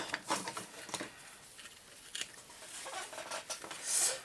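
Scissors snipping paper for a handmade craft album with little bells, heard as a few quiet, separate crisp cuts and rustles at close range, with no speech.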